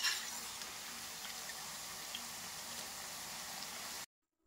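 Bitter gourd pieces sizzle in hot oil, a steady dense crackle and hiss running evenly for about four seconds before cutting off abruptly.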